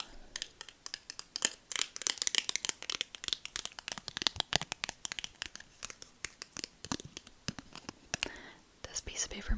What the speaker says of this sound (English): This piece of paper makes such a good tapping sound.